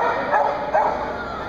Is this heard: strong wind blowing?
no